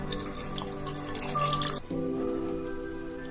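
Tamarind water pours and trickles steadily into a pot of kulambu, a continuous close splashing stream with a brief shift in tone midway.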